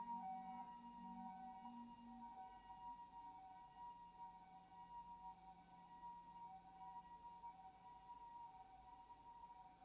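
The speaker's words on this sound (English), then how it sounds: "This ambulance is still going." An ambulance siren wails steadily at a distance, a sustained tonal whine that persists throughout with no talking.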